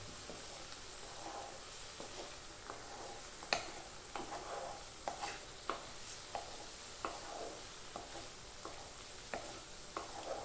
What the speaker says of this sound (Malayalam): മല്ലിയും ചിക്കൻ മസാലയും ഒന്ന് മൂക്കണം. അതിനു വേണ്ടി നന്നായിട്ട് ഇളക്കുക.